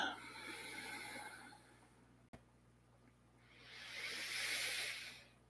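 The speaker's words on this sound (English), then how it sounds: "Inhaling down, exhaling up." Close, quiet Kriya yoga breathing: a slow, rough nasal inhale, a brief pause, then a long, smooth hissing exhale that swells and fades.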